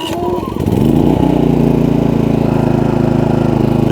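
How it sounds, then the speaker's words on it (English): A 53-pound 3200-watt portable generator with remote start starts up after a brief crank and settles into a loud, steady engine run close by. "generator fires right up"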